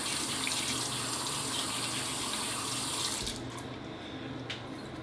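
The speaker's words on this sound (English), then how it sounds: "I'm gonna go ahead, just wash my hands," Hands being washed under a running tap, a steady close rush of water into a sink that shifts and softens slightly partway through as the hands move under the stream.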